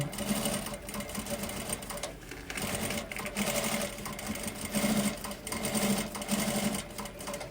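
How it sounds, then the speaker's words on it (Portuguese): A sewing machine runs a stabilising stitch along the edge of a zipper on a fabric pencil case, its rapid mechanical whirring coming in bursts with short pauses between, close and steady with no talking. "a gente vai passar uma costurinha estabilizando a bordinha do zíper, porque ele tende a levantar"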